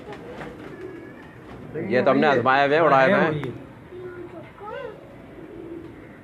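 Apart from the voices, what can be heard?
pigeons cooing on the rooftop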